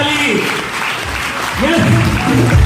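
Seminar audience gives loud applause, dense clapping throughout under a raised voice speaking over it.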